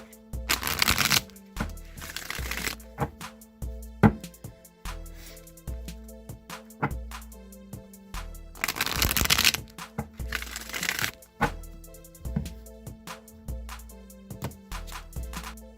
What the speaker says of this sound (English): I'm going to shuffle this 3 times, cut the deck, and we'll pull out 4 cards